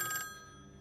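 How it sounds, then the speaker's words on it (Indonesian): A telephone bell rings in a short, bright burst that cuts off quickly, leaving a faint, quiet room tone. "Kemudian telepon berdering."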